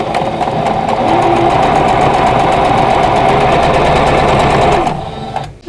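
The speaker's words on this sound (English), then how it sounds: "I thought of something to show you while I was sewing these together" A sewing machine runs steadily for nearly five seconds, stitching pieces of a vintage Wheel of Fortune quilt block together, loud and close, then stops abruptly with a brief clunk at the end.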